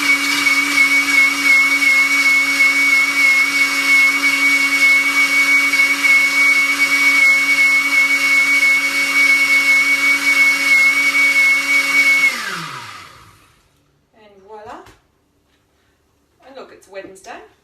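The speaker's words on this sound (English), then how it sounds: "For some reason, I feel like you have to blend a margarita." A blender whirs steadily as it blends a margarita with ice, a loud close motor drone that holds for about twelve seconds and then spins down, followed by brief clatters.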